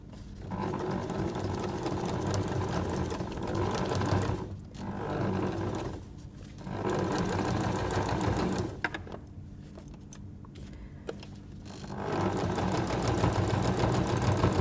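A sewing machine stitches quilt binding through folded fabric, a loud close steady whirring drone that stops and restarts several times.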